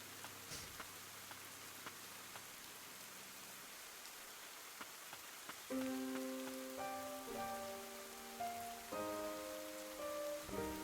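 Faint, steady rain hisses in the video game Ender Lilies, and soft sustained musical tones come in partway through and continue over the rainfall.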